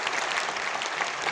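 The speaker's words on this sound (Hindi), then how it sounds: "तो मैं चाहूंगा इनके लिए जबरदस्त ताली होनी चाहिए" Audience applause at a crowded rally or public gathering in Bihar, a dense, steady wash of many hands clapping close by, sustained without a break and with no voices rising above it.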